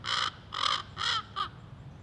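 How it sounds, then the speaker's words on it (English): A crow caws four times in a rising-and-falling series, the last call shorter, fairly loud against a low background hum with no talking. "This bird is throwing me off."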